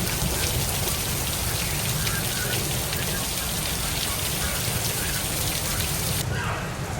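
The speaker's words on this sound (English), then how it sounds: "Pouring rain" Heavy rain pours down during a tornado-warning storm at a campground with RVs, a loud, dense, constant hiss of drops drumming on surfaces close by.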